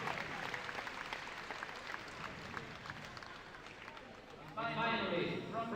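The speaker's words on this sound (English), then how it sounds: "I'm sure you can hear on the stream a massive cheer for the Ukrainian competitors" An audience at a European Rubik's Cube championship breaks into a sudden burst of loud cheering and applause for the Ukrainian competitors, rising sharply after several seconds of softer crowd murmur and scattered clapping.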